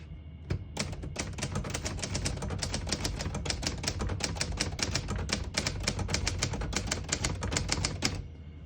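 Rapid, close clacking keystrokes on a 1967 Hermes 3000 portable manual typewriter, an even flurry of sharp mechanical strikes lasting about eight seconds with no talking.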